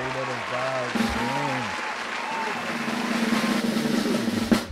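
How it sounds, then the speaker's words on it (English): A podcast studio audience applauds as two guests arrive, a sustained round of clapping under voices and a whistled or hummed tone, running continuously and building slightly toward the end. "Round of applause. Round of applause."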